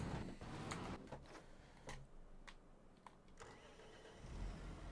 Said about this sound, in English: just move this tractor back into the shed.